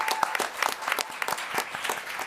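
A student election question-time night audience applauds for the support zone candidates, steady clapping from a crowd filling the room, sustained and even throughout without voices over it.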